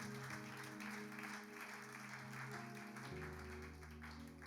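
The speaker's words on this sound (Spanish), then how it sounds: "Dele un aplauso al Señor." A church congregation claps for the Lord during a worship service, continuous applause heard under sustained music with steady organ-like tones throughout.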